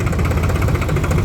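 A New Holland 3630 tractor engine running on the road at speed, a steady, loud diesel drone with a continuous low rumble heard up close and alone.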